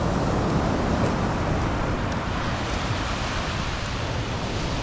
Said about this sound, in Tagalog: Na mga alon, maliliit na.